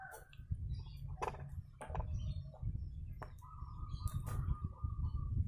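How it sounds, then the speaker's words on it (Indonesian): An oriental magpie-robin calls with bright whistled notes and a sustained warbled phrase over a steady low rumble of background noise. "ini adalah burung kacer saya hasil dari ombyokan ataupun dari liaran"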